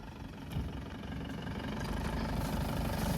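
A vehicle engine idles while passengers board for a pilgrimage trip to Adamapur, a steady low rumble that holds close and even for a few seconds with no talk.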